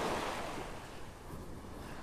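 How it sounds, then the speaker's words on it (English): Ocean waves break and wash on a beach at Wiggins in North Naples, Florida, a steady rushing surf with some wind, fairly loud and without talk. "The past couple days the waves have been up a little bit."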